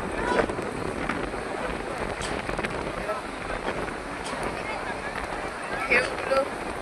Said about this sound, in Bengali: প্রচন্ড হাওয়া দিচ্ছে।